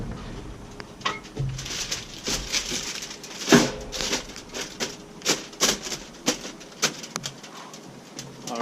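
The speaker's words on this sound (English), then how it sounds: "Take your grill, cover it in tin foil" Tin foil crinkling and rustling as it is spread and pressed over a grill outdoors, a series of sharp crackly bursts and crumples of varying loudness with no talking.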